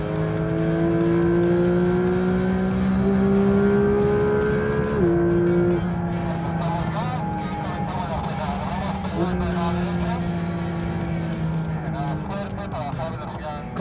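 A Porsche sports car on a race track, its engine note climbing under hard acceleration, dropping sharply under braking around five and nine seconds, then pulling again. The engine is loud and close throughout, with people talking over it.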